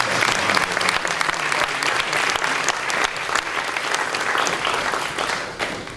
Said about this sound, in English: Let's put our hands together.